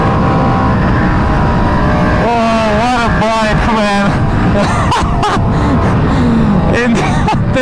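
An Aprilia RSV4 motorcycle fitted with Core Moto Apex 6 forged wheels is being ridden, its engine roaring loud and close with rising and falling revs throughout. Excited voices and gasps sound over the engine.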